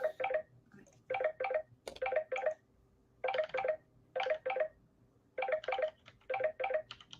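Repeated clusters of short electronic phone beeps, in groups of three or four, sound close and clear against a quiet background.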